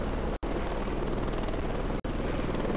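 Helicopter in the Heliborne combat flight game, a steady loud rotor and engine drone filling the clip, cut by two brief silent gaps.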